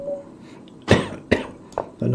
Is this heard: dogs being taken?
no